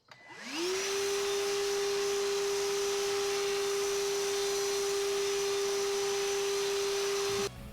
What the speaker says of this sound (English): another very cool thing about this vacuum is it sucks and blows